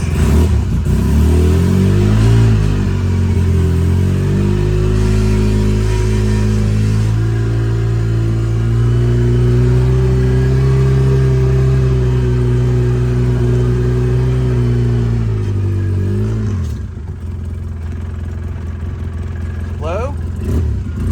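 A Polaris RZR side-by-side idles and revs on a test ride after a transmission fix, its loud, close engine droning and rising through gear changes before cutting off near the end.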